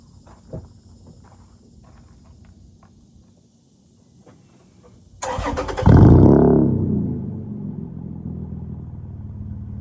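A few faint clicks and shuffles, then a 2017 Toyota Tacoma pickup engine cranks and roars to life loudly, settling into a steady, rumbling idle nearby.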